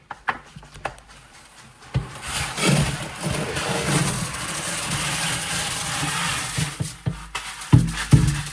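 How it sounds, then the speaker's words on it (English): Sand pours into a small saltwater aquarium tank as a steady, close hiss lasting several seconds, with scattered knocks and clunks before and after. "next we're gonna pour the sand into the tank"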